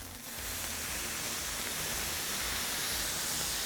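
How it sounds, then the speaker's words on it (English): A vegetable stir fry sizzles and crackles in a hot pan with a dense, steady hiss that holds throughout. "By keeping it all separated, you can hear that frying and that crackling."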